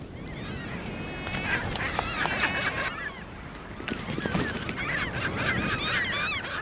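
Seagulls call along the coast, where large flocks gather and harass bigger gulls. The squawks come in repeated overlapping bursts, fairly loud and close, over a rough outdoor background.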